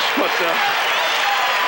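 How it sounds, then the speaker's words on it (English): A basketball arena crowd at the Palace of Auburn Hills cheers and applauds in a continuous roar as the Pistons leave the court late in the 1991 Eastern Conference Finals, with a commentator speaking over it. "the crowd is cheering here for the Bulls right now, and the Pistons as they leave the court"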